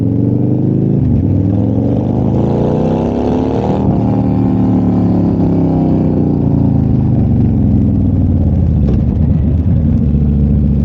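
A 2005 Victory Hammer motorcycle engine drones loud and close while riding, with pitch rising and falling through gear changes and steady wind rush over the whole ride.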